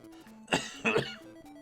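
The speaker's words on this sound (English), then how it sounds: "I do apologize for the coughing." A couple of short, close coughs or throat-clearing bursts break through a quiet background with a faint low hum.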